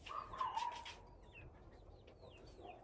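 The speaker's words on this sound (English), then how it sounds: "Chickens." Backyard chickens clucking softly in a suburban garden, a few short throaty clucks and higher chirps scattered over faint outdoor background noise.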